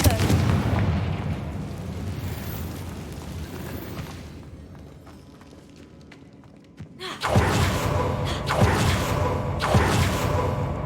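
A Confringo fire spell bursts in Hogwarts Legacy, a sudden loud blast cutting through quieter rumbling ambience, followed by a dense, sustained roar of debris and echoing noise.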